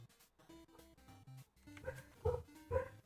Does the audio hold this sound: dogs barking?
yes